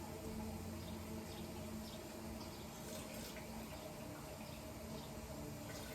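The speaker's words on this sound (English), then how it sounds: "All right, so we get the hot water on. We're gonna fill this up to 1/2 cup." Hot water runs steadily from a kitchen tap into a measuring cup, filling it to the half-cup mark for a beef stroganoff sauce. It makes a continuous, even rushing pour that stays at the same level throughout.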